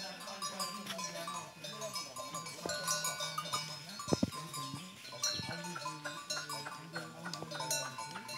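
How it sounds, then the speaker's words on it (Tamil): Cattle grazing in a forest, with cowbells clanking irregularly and faint bleat-like animal calls, all set against a busy outdoor background for the whole stretch. "காட்டுக்குள்ளே மாடு மேய்ஞ்சிட்ருக்கு, அந்த சத்தம் பாருங்கள் எவ்வளோ ஒரு அருமையாக ரொம்ப அழகாக இருக்குல்ல அந்த மாடு"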